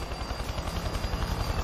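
A helicopter in an animated Devil May Cry episode produces a loud, fast, steady rotor thumping with a broad hiss on top. No voices are heard.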